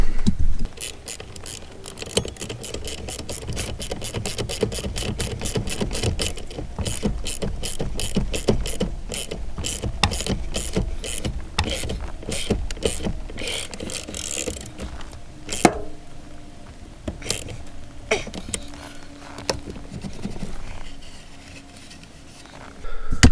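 Rapid, steady ratchet clicking as a steering wheel is tightened down on a Foxbody Mustang, close and loud, continuing for most of the stretch before slowing to a few scattered clicks.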